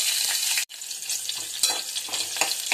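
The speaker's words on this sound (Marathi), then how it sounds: "तूप टाकायचं आहे थोडंसं आता टाकूया जिरं आता हिरवी मिरची" Cumin and green chilies hit hot ghee in a pan with a loud, close hiss, which briefly cuts out and then settles into steady crackling sizzle with soft stirring.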